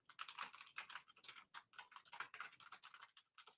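Rapid clicking keystrokes on a computer keyboard, a fast continuous patter of taps in bursts with brief pauses, faint and somewhat distant.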